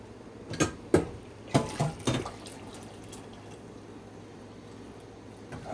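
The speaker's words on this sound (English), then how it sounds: "I have to put more water to this" Water poured into a cooking pot while making ginger dumplings: several short, close splashing bursts in the first two seconds, then a quiet, steady wash of faint liquid noise with no talking.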